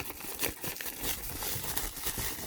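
A plastic priority mail envelope is handled and opened up, giving soft, close crinkling and rustling in uneven bursts at a low level.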